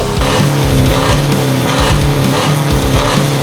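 A car engine with a Siam Motorsport aftermarket racing exhaust revs loud and close, a harsh, raspy roar rising and falling in repeated bursts with no talk over it.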